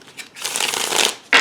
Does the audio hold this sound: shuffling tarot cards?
yes